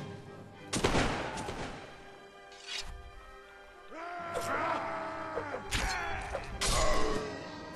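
Musket fire on a Mount & Blade Warband battlefield, several loud sharp cracks and ragged bursts spread over a few seconds, mixed with clatter and battle noise.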